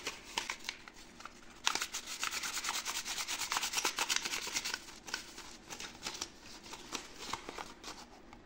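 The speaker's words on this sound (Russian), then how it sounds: "Берем бумажку, чистим разъемы." Paper rubs briskly against the connectors of an ASUS GeForce RTX 3060 Ti mini graphics card during cleaning, a close, steady dry scrubbing with rapid back-and-forth strokes and no talking.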